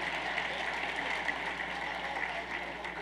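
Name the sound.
applause for the assistant coaches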